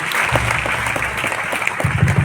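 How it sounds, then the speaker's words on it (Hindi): Audience applause welcoming Father Cornelius Tigga at a parish youth seminar in Charbandia, a steady dense burst of clapping from a crowd that fills the whole moment, fairly loud and close, with no talk over it. "तो हम उनका जोरदार तालियों से उनका स्वागत करेंगे।"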